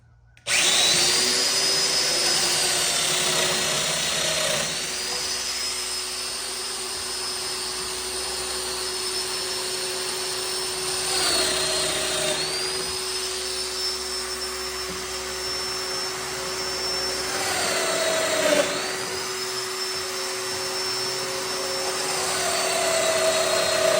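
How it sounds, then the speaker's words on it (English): A Domino joiner set to its tight setting runs as a loud, steady motor whine while cutting mortises in wood, with several pitch dips and rises as the cutter plunges in and pulls back again. "Domino cutter is set on the tight setting"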